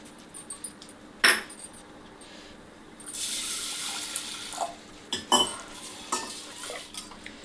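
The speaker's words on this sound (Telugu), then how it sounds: "దీన్ని ఒక 2 సార్లు మంచిగా శుభ్రంగా కడుక్కోవాలి." Toor dal (pigeon peas) being washed in water in a kitchen vessel, with sloshing and swirling water, a couple of sharp clinks of metal against the pot, and a faint tap-like rush in the middle.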